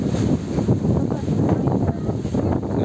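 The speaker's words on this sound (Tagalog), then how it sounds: "Malakas ng hangin ha." Strong wind buffets the microphone outdoors during preparations for a church thanksgiving, a loud continuous rumbling roar with gusts that swell and ease throughout, no clear voices over it.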